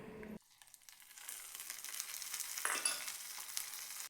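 Mustard seeds, curry leaves and dried chillies crackle and sizzle in hot oil for a tempering, starting with a sudden hiss and then settling into a steady, close fry with light popping and stirring.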